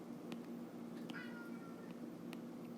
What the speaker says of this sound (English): Here's my kitty.